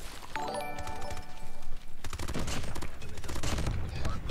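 Bursts of rapid automatic gunfire from a CBR weapon in a first-person shooter game, loud and dense, with an ongoing volley that breaks off briefly partway through and then resumes with further rattling shots.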